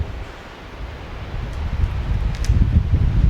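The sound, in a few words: gust of wind blowing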